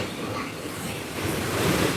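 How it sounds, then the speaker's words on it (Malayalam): A constant broadband roar of rushing water, loud and unbroken, from the Chekuthan Kundu waterfall close by, swelling slightly toward the end. "നിങ്ങൾ കാണുന്ന ഈ വെള്ളച്ചാട്ടം എങ്ങനെയുണ്ട്"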